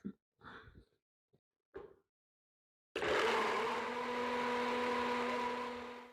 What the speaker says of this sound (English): And now I'm just going to get this blended up.